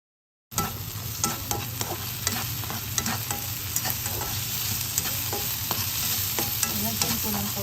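Garlic hits a hot pan and sautés with a continuous crackling sizzle, punctuated by frequent small pops and spatters, close and even in loudness.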